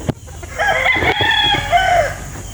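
Roosters crow loudly with long rising calls, mixed with hens clucking nearby on a poultry farm; busy farmyard chicken sounds throughout, no talking.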